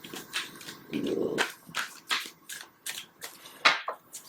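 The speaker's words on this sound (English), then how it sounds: "I'm going to give it one more shuffle" Tarot cards riffled and shuffled by hand in a series of quick papery bursts with short pauses between, close up and fairly quiet.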